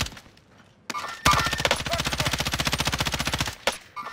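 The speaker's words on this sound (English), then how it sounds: "There's so many teams shooting at us right here." A long, rapid burst of automatic gunfire from a firefight between many teams on Rebirth Island, loud and close, with a few single shots around it and little talk.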